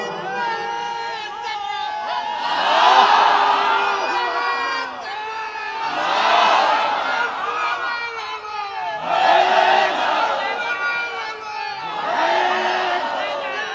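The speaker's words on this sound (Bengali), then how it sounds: "দেখি একজন তাকবীর দিবেন, পুরা মাঠ প্রকম্পিত" A large crowd at an outdoor religious gathering roaring a takbir chant in unison, four loud swelling call-and-response waves with brief dips between them, many voices filling the field.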